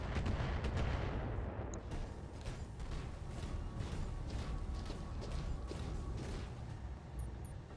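Gunfire on a base in the MechWarrior video game: a steady barrage of heavy weapon fire and rumbling impacts, dense and continuous at moderate loudness, with sharp cracks early on.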